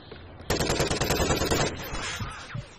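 Rapid machine-gun fire from a shooter video game, a loud, dense burst of rattling shots lasting about a second and a half, then fading into game ambience.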